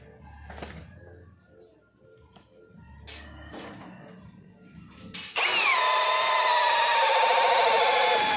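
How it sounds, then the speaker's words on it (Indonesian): Cordless drill in drilling mode on high speed boring with a 19 mm auger bit. A few knocks and shuffling come first, then the motor kicks in loudly and runs at a steady whine until the end. "Uji tanding ketiga saya menggunakan mata bor auger dengan ukuran diameter 19 mm."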